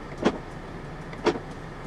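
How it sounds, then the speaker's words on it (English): Two short mechanical clunks about a second apart, the electronic central locking of a 2017 Volvo XC90 T8 Twin Engine engaging, over a quiet cabin hum. "Electronic central locking."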